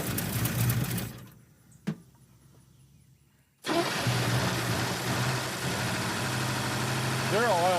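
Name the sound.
Chevrolet Bel Air engine running rough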